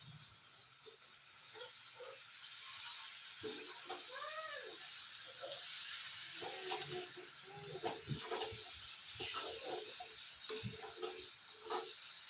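A cat meows several times, drawn-out and rising cries close by, mixed with a few short scuffs and quieter background noise.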